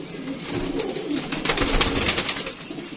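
Domestic pigeons, an adult pair with their chick, give soft, low, throaty coos in a steady murmur, fairly close and alone, with no talking.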